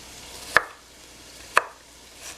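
Two single knife chops through onion on a cutting board for chunky turkey chili, spaced about a second apart, crisp and close against a quiet room.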